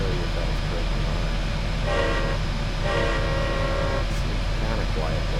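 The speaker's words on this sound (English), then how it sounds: "Locomotives were equipped with Leslie S5TRF air horns on the cab roof." Leslie S5TRF air horn on a Union Pacific 8,500 hp gas turbine locomotive in Train Simulator Classic sounds two short, steady blasts over a continuous engine rumble. The second blast ends abruptly.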